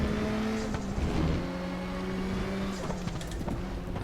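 A Volvo 240 Turbo in a racing video game at Norisring revs hard and holds a droning engine note, with pitch shifting as it downshifts and blips the throttle, loud and continuous throughout.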